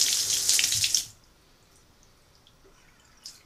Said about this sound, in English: The water you see coming out of the faucet right now is the drain from our diverter.